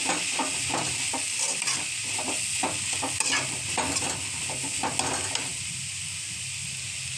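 Vegetables for momo filling sauté in a hot pan, a constant close sizzle broken by a quick rhythmic series of spatula scrapes and stirs that ease off toward the end.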